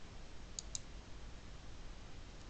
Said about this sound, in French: On fait un clic droit dessus.